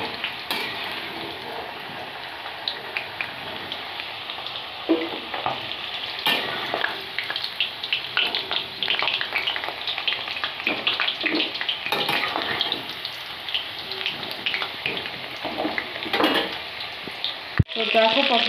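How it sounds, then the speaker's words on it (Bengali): Pointed gourd (potol) pieces frying in hot oil in a pan after the potatoes, giving a steady close crackling sizzle throughout, with occasional stirring scrapes and a sharp clank near the end. "তো দেখো পটলগুলো বসিয়ে দিলাম, পটলগুলো ভাজা হচ্ছে।"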